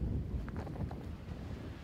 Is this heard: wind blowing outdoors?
yes